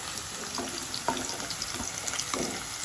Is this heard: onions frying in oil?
yes